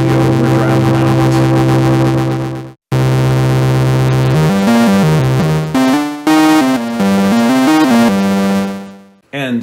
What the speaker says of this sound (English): you can also get some nice distortion with the ring mod at, say, -7 or so